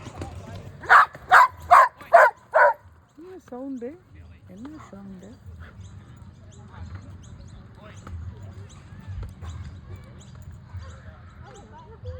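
Several tailless dogs training in a park let out five quick, loud barks in a rapid burst, followed by a person speaking over faint outdoor background noise.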